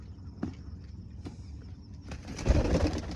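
Pigeons coo faintly near their coop, then a rush of flapping wings rises toward the end as the birds go inside, with a few sharp knocks in between.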